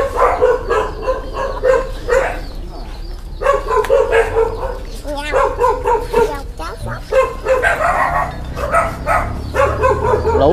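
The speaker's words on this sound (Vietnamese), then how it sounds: "Quá trời sủa luôn." Several dogs bark repeatedly at a rural home, a busy run of yips and bow-wows close by, mixed with people talking throughout.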